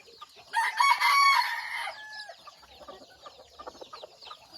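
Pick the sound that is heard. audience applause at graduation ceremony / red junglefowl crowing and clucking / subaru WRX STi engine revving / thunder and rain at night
red junglefowl crowing and clucking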